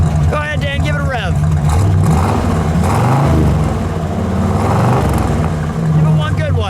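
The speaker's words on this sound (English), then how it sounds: "Go ahead, Dan, give it a rev." A 1967 Pontiac GTO convertible's engine rumbles and revs loudly up close, with throaty rising and falling surges, while people talk over it.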